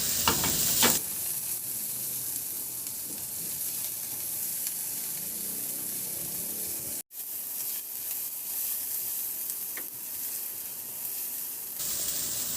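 Ginger and onion sizzle steadily in a hot pan for shrimp sarciado, a loud, continuous frying hiss with a brief break midway and no talking.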